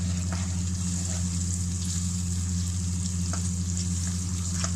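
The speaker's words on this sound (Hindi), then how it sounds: "ये चिकन भुना जा रहा है" Chicken fries in a pan for chicken makhni in a steady, even sizzle with occasional stirring scrapes, over a constant low hum. No speech is heard.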